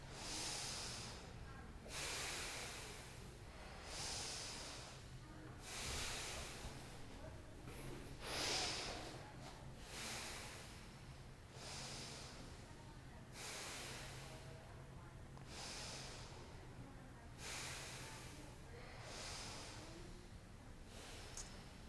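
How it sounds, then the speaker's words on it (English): Deep, slow breaths during a foam roller exercise, long rushing inhales and exhales repeating every couple of seconds, close and breathy, with no talk over them. "And then big bellowing breaths."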